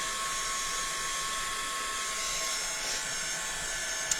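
A heat tool or dryer blowing steadily on freshly painted mixed media pieces, a loud continuous close whirring hiss with a faint steady whine and no break, no voices over it.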